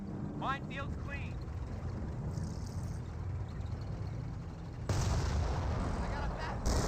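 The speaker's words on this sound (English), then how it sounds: "And here comes a Calio barrage now raining on in." Calliope rocket artillery barrage in a Company of Heroes battle, heard as a steady roaring wash of distant rocket fire and explosions with a louder surge near the end, under whistling projectile sounds and no clear voices.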